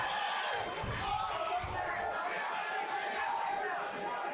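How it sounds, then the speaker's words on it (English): A crowd at an MMA event roars in a continuous, dense wall of cheering and shouting, steady and loud throughout without clear breaks. "Here the crowd getting right into it."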